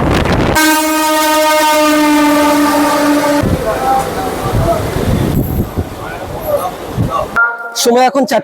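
A Panskura local passenger train's long, loud horn blares, then carriages rumble and clatter past close by, ending with another short horn burst.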